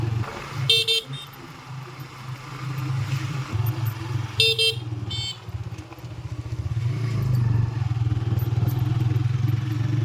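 A motorcycle engine putters steadily nearby on a village road in Bankura while horns honk twice in the distance, the engine note rising toward the end.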